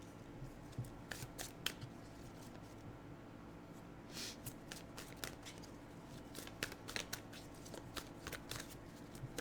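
Wildwood Tarot cards are shuffled by hand, giving a run of soft, close riffling and slapping bursts in an irregular rhythm over quiet room noise, with no speech.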